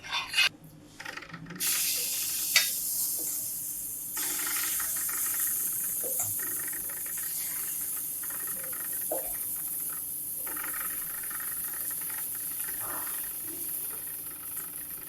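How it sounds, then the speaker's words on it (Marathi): Dhirda batter sizzling on a nonstick tava greased with a spoonful of oil, a continuous close hiss with a few faint scrapes over it. "आता आपण तव्यावर धिरडं घालणार आहोत"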